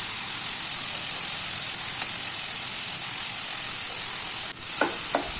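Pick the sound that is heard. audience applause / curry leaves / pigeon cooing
curry leaves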